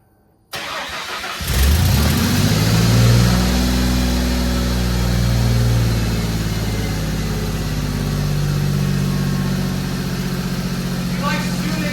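Ford Mustang engine cranks and fires after a brief silence, flares up in a loud rev, then settles into a steady, close rumbling idle that slowly eases down over several seconds.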